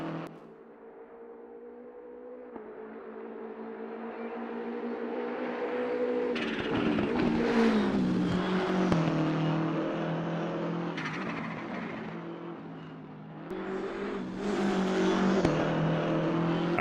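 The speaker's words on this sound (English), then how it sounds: "It's got some really good sounds on the M6" A BMW M6 GT race car in Assetto Corsa Competizione, turbocharged engine droning loud and close, its pitch rising and falling through gear changes and revs over about seventeen seconds, with no talk.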